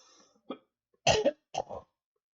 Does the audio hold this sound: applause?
no